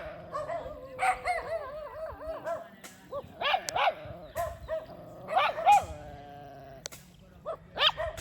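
Dogs in Jamaica bark in short, yelping bursts with whining, howl-like rises, fairly close and loud, repeating irregularly with pauses over several seconds.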